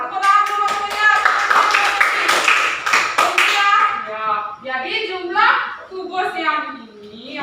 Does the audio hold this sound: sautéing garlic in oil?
no